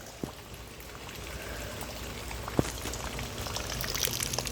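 Flash flood water pours and streams steadily around a house, a continuous rushing wash with a couple of sharp knocks, growing slightly louder toward the end.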